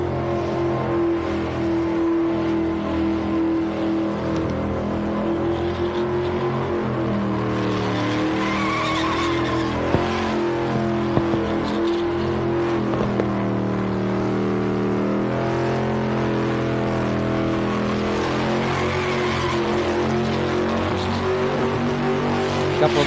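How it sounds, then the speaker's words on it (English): A 1980s street machine car skids and squeals its tyres continuously on a race track, with a loud, sustained engine roar and rising and falling tyre screech, close and intense throughout. "cranking the wheel around in an attempt to keep the car from skidding across the track and into the guardrail"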